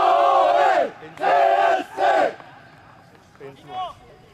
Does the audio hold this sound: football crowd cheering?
yes